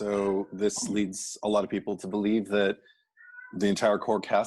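A house cat meows briefly in a quiet room, partly masked by a person talking steadily over it.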